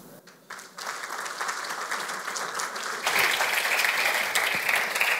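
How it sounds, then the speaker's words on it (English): Applause from an audience at a corporate award ceremony builds, then swells louder and fuller partway through, a dense wash of clapping. "please give a warm applause to Jessely Rose Ong from the Philippines"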